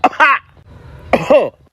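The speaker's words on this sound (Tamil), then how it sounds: "என்னடா முரட்டு இருமலா இருக்கும் போலியே" A person coughs hard twice, two harsh rasping bursts close up separated by a short wheezy pause.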